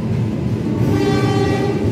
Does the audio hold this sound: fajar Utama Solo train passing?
yes